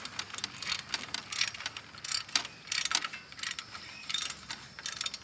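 A ratchet being worked to tighten a wheel hoe, giving quick bursts of metallic clicking in uneven strokes, close by and alone.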